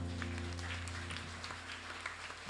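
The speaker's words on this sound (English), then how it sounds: "Clap your hands and praise the Lord." Congregation at a Lenten deliverance retreat claps hands in praise, a fairly quiet scattered clapping over a low sustained musical hum.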